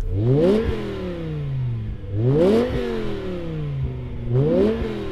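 Three sharp engine revs in a row from a BMW M5 Touring V10, each climbing quickly to a howl and falling away, loud and close.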